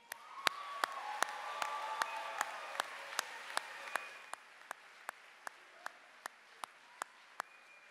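Audience applause at a Vanguard University graduation ceremony, a steady wash of clapping that swells and then thins out over several seconds, punctuated by regular sharp clicks.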